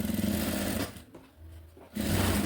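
A sewing machine stitching a girl's school uniform runs in a fast steady mechanical whir, stops briefly, then starts again, close and continuous with no talk.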